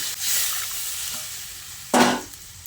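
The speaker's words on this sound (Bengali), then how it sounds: "তারপর জলটা দিয়ে খুব ভালো করে নেড়েচেড়ে মিশিয়ে নিচ্ছি" Drumstick and potato curry stirred in a pan after water is added, a soft simmering hiss with one sharp utensil scrape near the end.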